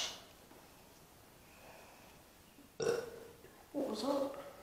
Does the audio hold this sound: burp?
yes